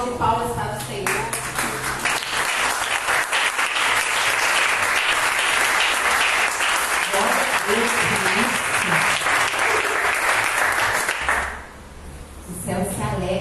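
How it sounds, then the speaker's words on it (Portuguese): A church congregation at a Pentecostal worship service applauds in a loud, sustained round of clapping lasting over ten seconds, with voices calling out faintly beneath it before it drops away. "Um salve de palmas para o Senhor"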